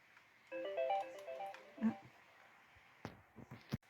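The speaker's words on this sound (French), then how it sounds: "on a été interrompu par le téléphone" A telephone ringtone plays a short electronic melody during a hot-glue craft session, then stops, followed by a few sharp clicks and handling knocks nearby.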